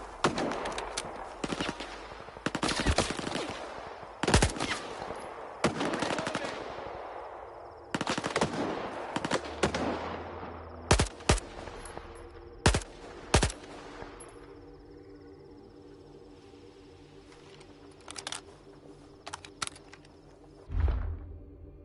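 Rapid bursts of automatic gunfire and single shots in the shooter game Stalker 2, loud and close, clustered in volleys with short pauses, then sparser later shots over a low rumbling background.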